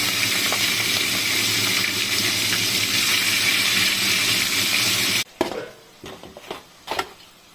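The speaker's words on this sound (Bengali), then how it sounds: "আর এদিকে পেঁয়াজ লাল করে ভেজে নিচ্ছি" Onions frying in a pan until browned give a loud, continuous close sizzle that cuts off abruptly, followed by a few quieter clinks and scraping stirs.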